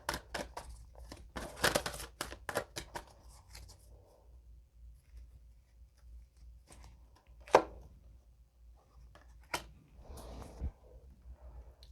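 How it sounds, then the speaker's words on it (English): Oracle cards are shuffled by hand at close range, a rapid burst of papery riffles and slaps early on, then quieter, scattered flicks and taps with one sharp card snap partway through, with no talking. "So what I'm going to do is just shuffle and then pull one from the middle"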